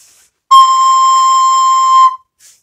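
Soprano recorder sounding a single sustained high note with the first finger holes and the back hole covered, clear and close for about a second and a half, steady pitch, alone with no talk.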